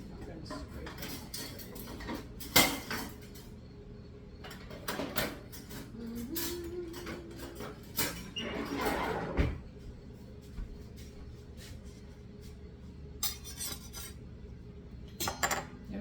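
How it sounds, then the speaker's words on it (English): A metal spatula scrapes freshly baked bone broth biscuits off a baking pan, making scattered clinks and rasping scrapes in bursts, close by, with some rattling of pans and utensils. "I have to get spatula. Let's see, I'm going to scrape them"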